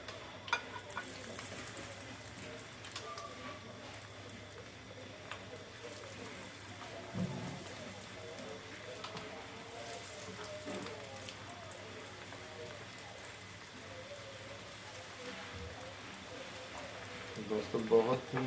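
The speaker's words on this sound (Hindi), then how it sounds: "ऑयल गर्म हो गया और अब कटलेट्स जो है फ्राई करेंगे" Chicken vegetable cutlets frying in hot oil, a faint, even crackle and hiss throughout with occasional soft clinks, while a person speaks over it.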